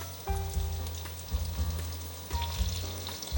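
Food strips fry in hot oil in a wok, a steady close crackling sizzle with brief louder bursts as pieces are moved and turned, no talking.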